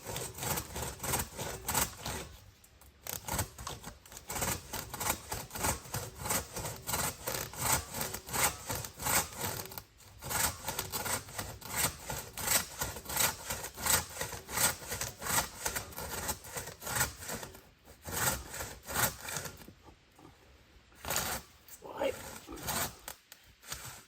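A flea-market hand saw cutting through wood, with close, rhythmic rasping push-pull strokes that run steadily and pause briefly a few times.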